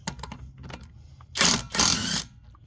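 An Alloyman 20v cordless impact wrench, set to high, breaks a bolt loose in two short loud bursts of rattling hammering, each about half a second long, after some light handling clicks.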